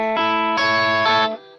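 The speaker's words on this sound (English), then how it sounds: "you can just have the octave up," Electric guitar through a Digitech Whammy DT pitched an octave up plays a few sustained notes that ring brightly and close, then fade quickly within under two seconds.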